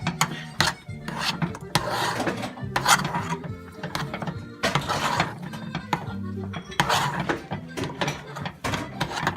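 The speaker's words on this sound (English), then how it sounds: "I'm going to start cleaning up all these bowls" Mixing bowls being cleaned up in a kitchen after making mashed potatoes, with rough scraping and rubbing in repeated strokes plus clinks and clatter, fairly close and steady.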